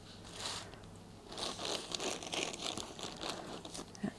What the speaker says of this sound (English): Sorry for the rustling, excuse the noise.